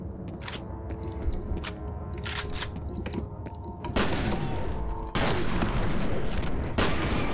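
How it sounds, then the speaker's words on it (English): Shotgun fire in the video game F.E.A.R.: a string of loud, sharp blasts, first spaced irregularly and then coming over a louder, dense roar of combat noise; speech is also present. "Shotgun versus shotgun. I had the better shotgun."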